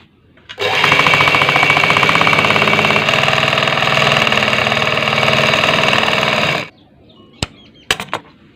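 A sewing machine runs in one loud, continuous burst of rapid stitching for about six seconds while sewing a shalwar seam, then stops, followed by a few faint clicks and handling sounds.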